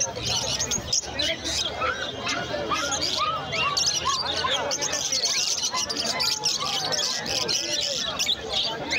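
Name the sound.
caged exotic birds chirping at a bird market, including zebra finches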